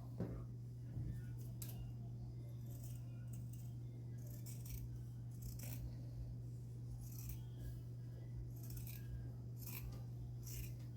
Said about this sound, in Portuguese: Risca aqui e corta.